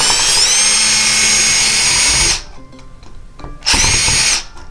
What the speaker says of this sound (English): This is why I brought my drill.